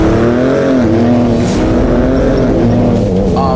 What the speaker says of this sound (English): This thing can hit 60 miles an hour in just over 5 seconds, which for a truck is ridiculous.